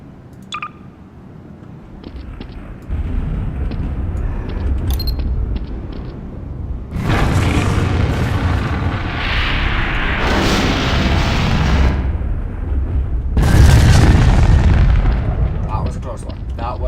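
Missiles explode in a Roblox tornado survival video game, with a loud sustained rumble of blasts and booming impacts that swells in waves. Someone talks over the explosions.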